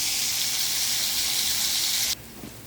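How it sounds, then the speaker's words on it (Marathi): Garlic and green chili fry in hot oil that already holds cumin and mustard seeds, making a loud broad sizzle that holds steady for about two seconds and then drops away abruptly. "लसूण आणि मिरची फ्राय झाली"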